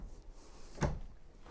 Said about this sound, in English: New for 2023, they went to solid hardwood drawers.